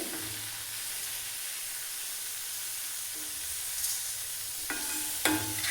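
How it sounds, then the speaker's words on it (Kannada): Tempering for bisi bele bath sizzles steadily in a pan, a soft continuous fry hiss with occasional stirring clinks near the end, no voices. "ಈ ಕಡೆಗೆ ಇದು ಒಗ್ಗರಣೆನೂ ಬೇಯ್ಕೊಳ್ತಾ ಇದೆ."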